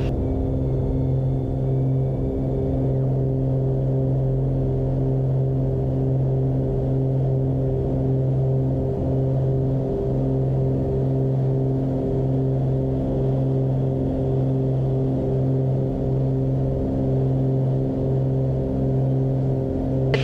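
Small propeller airplane engine holds a steady, loud droning hum with even harmonic tones throughout takeoff and climb, constant and unbroken for twenty seconds with no voices.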